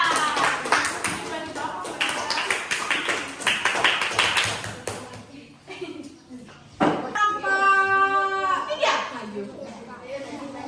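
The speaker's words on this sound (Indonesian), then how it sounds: "Beri tepuk tangan untuk kelompok 2." Classroom of students clapping for group 2 during a lesson, bursts of brisk clapping mixed with children's voices and chatter, followed by talking and a sung or chanted voice.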